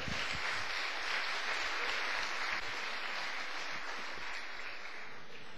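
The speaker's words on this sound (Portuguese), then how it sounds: "Uma salva de palmas para o Senhor." A church congregation applauds during a sermon, a faint, steady wash of many hands clapping that sounds distant and sustained throughout with no voices over it.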